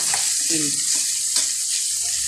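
Corned beef fries in a pan with a constant bright sizzle and hiss, plus a few soft stirring scrapes and no talking.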